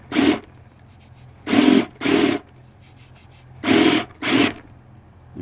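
Drill boring through a wooden cabinet panel during an RV cat litter box door build, heard as five separate gritty bursts of a second or less each, with quiet pauses between them and no talking.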